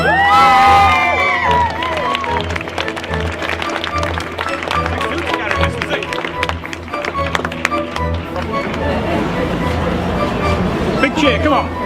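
Spectators at a rugby league fun day in Dewsbury cheer for the intermediate players, an opening burst of whoops giving way to sustained crowd noise, children's shouts and scattered clapping, with voices talking throughout.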